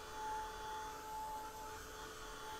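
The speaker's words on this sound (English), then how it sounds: "the heat, the dryer kind of blows out the pretty sound of the music, but Debbie, have fun" A heat dryer blowing steadily over watercolor paint, a continuous whooshing hum with a faint steady whine, close and unbroken throughout.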